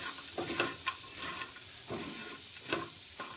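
Crabs, browned red, keep frying in a pan of hot oil, with a continuous near sizzle and several quick scraping stirs and clinks as they are turned.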